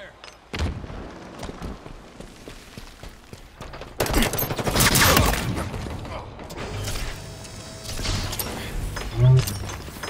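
Rapid gunfire bursts and explosive booms from a shooter video game, dense and close, with a loud crack near the end over a constant background of game effects.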